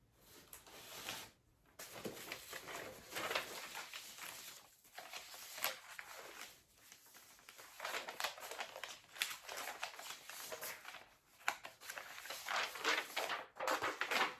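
Paper sheets being handled and shifted on a table during a cross-stitch hobby session, with repeated crinkling, rustling and soft taps in irregular bursts, fairly close and moderately loud.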